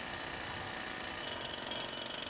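A heavy 45-kilogram pneumatic rock drill pounds on concrete building columns high on a tower prepared for demolition, a dense steady hammering roar with constant level and no pauses, heard alone.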